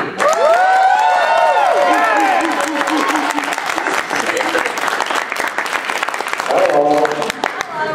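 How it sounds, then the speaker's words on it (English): A large crowd applauds and cheers in a dense wall of clapping and whoops, with voices calling out over it. "if you heard like a big strange wall of noise, that was applause"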